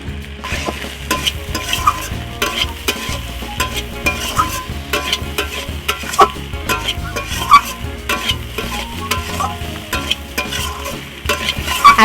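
Potatoes and figs being mixed with spices in a pan, a busy run of scraping and stirring over a low sizzle, with occasional metallic knocks from the utensil and no talking.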